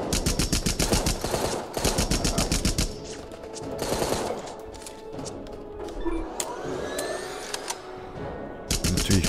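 Rapid machine gun fire in the Rambo video game, loud sustained bursts with a steady stuttering rhythm, falling away to quieter game ambience in the middle before another burst at the end.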